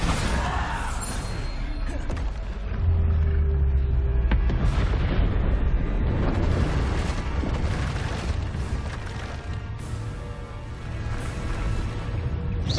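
Bombarda spell explosions in Hogwarts Legacy boom repeatedly amid dense game combat noise, with heavy low thuds and crashing debris layered over a continuous loud mix.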